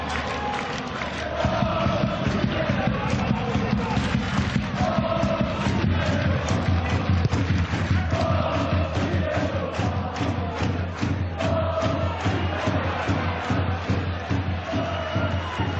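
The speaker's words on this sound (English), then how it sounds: "A massive crowd." A massive crowd at the 2014 EA Sports Cup Final between Dundalk FC and Shamrock Rovers roars and chants in a stadium, a broad continuous swell with rhythmic cheering, while a commentator talks over it.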